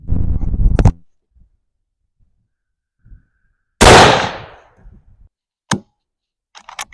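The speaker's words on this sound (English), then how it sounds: "That one looked like a pretty good shot." A single rifle shot fired outdoors while sighting in a hunting rifle: one sharp, loud crack that decays quickly, set among quiet stretches with a few faint clicks and some brief noise at the start.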